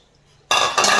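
Dishes being washed: plates, glasses, cups and stainless spoons clink and clatter together in a sudden loud burst after a quiet start, close by and continuing to the end.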